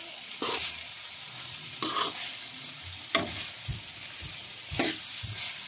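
Chunks of wild goat meat for khashhir korma sizzle steadily in hot oil in a pan, close up. Several spoon stirs scrape through the pan against a continuous frying hiss.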